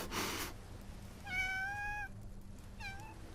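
A cat meows in the Love & DeepSpace video game, two clear drawn-out meows separated by a pause, following a brief burst of noise, fairly quiet overall.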